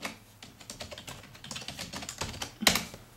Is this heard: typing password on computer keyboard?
yes